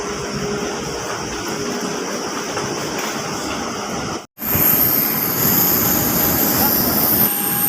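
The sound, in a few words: Boeing 737 jet aircraft engines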